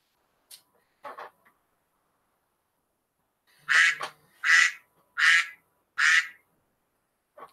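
A person imitates a duck with quacking sounds, a few faint scattered calls, then four loud, evenly spaced nasal quacks close to the microphone in an otherwise quiet room.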